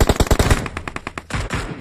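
Rapid automatic gunfire in the mobile battle royale game PUBG Mobile, a close, loud string of quick shots followed after a short gap by a second, slightly looser burst, with no talk over it.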